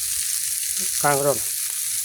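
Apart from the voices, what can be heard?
fish roe frying in a pan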